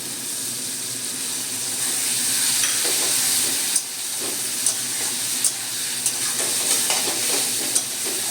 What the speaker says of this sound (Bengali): সামান্য জল দিয়ে মশলাটা কষে নেব।